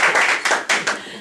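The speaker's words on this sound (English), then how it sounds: "A round of applause for this." Brief, close handclapping at a Toastmasters meeting: a few sharp, irregular claps from a small group over about a second.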